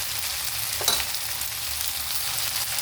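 Chopped tomatoes for spaghetti fry in a pan with a steady close sizzle and one brief utensil clink partway through.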